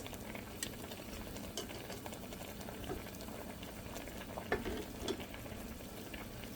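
Hilsa fish pieces, head first, dropped into a pumpkin curry simmering in a pot, giving a steady bubbling boil with a few small splashes and clinks.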